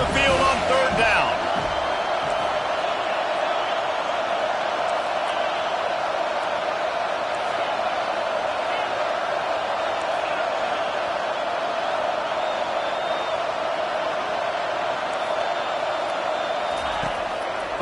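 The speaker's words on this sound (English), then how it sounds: "Here comes his home crowd as the defense tries to get off the field on 3rd down." A home crowd at a Utah vs USC football game roars in a steady, loud, dense wall of cheering as the defense faces third down, holding nearly level for the whole stretch.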